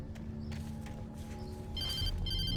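Telephone ringing in Alan Wake Remastered, a clear electronic ring in repeated bursts rising over a low, steady game ambience and music bed near the end.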